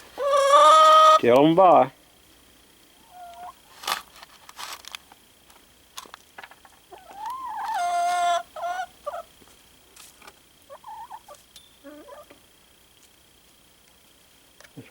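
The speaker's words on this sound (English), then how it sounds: "There's some big chickens." Hens in a quail and chicken coop let out loud squawking clucks in two short bursts, with softer scattered clucks and a brief spoken phrase in between.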